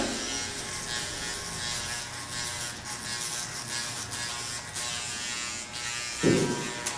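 An electric hair clipper fitted with a 1.5 guard buzzes steadily while cutting hair close by, a continuous hum with a brief soft bump near the end and no talk.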